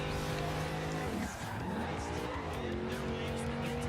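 A car in the Forza Horizon 2 video game drifting on the handbrake, the engine droning steadily with sustained tire squeal and a brief dip as the slide changes.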